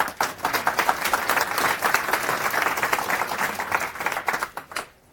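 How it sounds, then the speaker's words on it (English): Sustained applause from a conference audience at FOSDEM, dense clapping filling the room for about five seconds before tapering off sharply at the end. "So round of applause for him."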